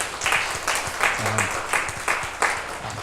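Seminar audience applause for first-time home buyers, a modest crowd clapping in steady bursts at close range, with a voice briefly audible under the clapping.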